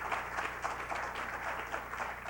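An audience applauds during a talk on the tragedy and lessons of the Vietnam War: a steady, dense wash of many hands clapping at moderate volume, with no voices over it.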